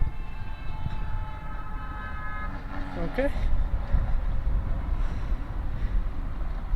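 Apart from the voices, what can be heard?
car horn honking on the highway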